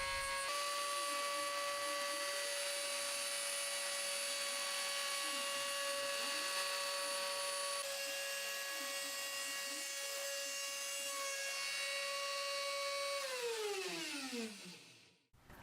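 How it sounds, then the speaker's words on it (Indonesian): A CNC machine spindle hums with a steady, high tonal whine as it mills plastic RC car parts, holding for a long stretch before the pitch slides down and stops. "untuk material plastik dari mobil RC ini saya tetap menggunakan mesin CNC"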